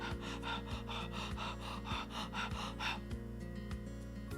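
A voice imitates the rapid, deep breathing of a dying person, a run of quick, even, rasping breaths, close and fairly loud, that stops after about three seconds, with a steady low hum beneath.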